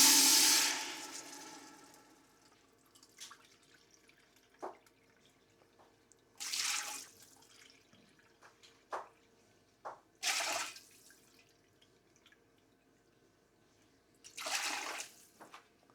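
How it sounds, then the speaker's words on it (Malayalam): Water is poured into a pot of masala for shawaya chicken mandi in several separate splashing bursts, about four pours with quiet gaps and small clinks between them. "ഇതിനകത്ത് നമുക്കൊരു 4 കപ്പ് വെള്ളം ഒഴിച്ച് കൊടുക്കാം"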